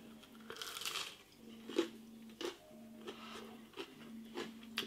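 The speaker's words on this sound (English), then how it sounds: "Batter's lovely and crunchy." Crisp crunching bites into a battered Spam fritter, a few distinct crackly bites spaced apart, with quiet chewing in between and a steady low hum underneath.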